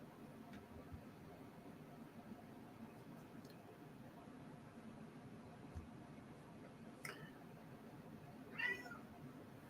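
A house cat meows a couple of times indoors beside a drawing table, short faint cries rising over a steady background hiss, with the clearest call near the end.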